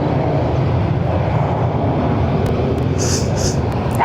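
American Airlines Dreamliner jet arriving at Barcelona airport, a loud continuous broadband roar that holds steady, with a few faint higher hisses near the end.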